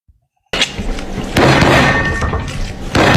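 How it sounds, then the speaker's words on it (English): A playing card held in the hand bangs down on a wooden table, a sudden loud thump after a moment of silence, followed by rustling clatter and another heavy knock near the end, all up close. "if I had a card in my hand, I was banging the table"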